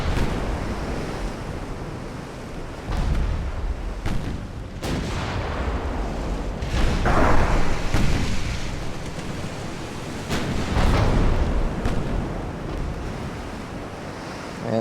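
Naval guns fire and shells land in Ultimate Admiral: Dreadnoughts, heard as deep, booming impacts and surges repeating every few seconds over a constant roar like wind and surf, with no voices.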